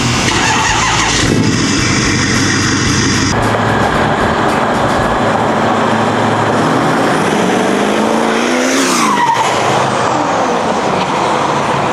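A pickup truck with a 6.4 engine drives along a road, its steady engine drone and road roar continuous and fairly loud throughout, with a brief shift in pitch near the end.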